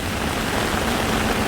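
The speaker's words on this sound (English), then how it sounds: "But yesterday it was raining a little bit, and today the skies opened up." Heavy rain pours onto a Bangkok street in Soi 13 near Nana BTS, a dense, steady hiss of downpour with no voices.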